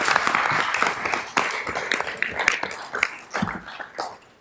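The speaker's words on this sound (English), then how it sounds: "Maybe one last round of applause for all of our award winners." Applause for award winners at a city council regular meeting, a room of scattered clapping that starts full and thins into uneven individual claps as it fades.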